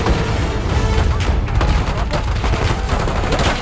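Dense covering gunfire in the war shooter Call of Duty Black Ops 6 rattles on without a break, loud and close, with rapid bursts, booms and crashes layered together.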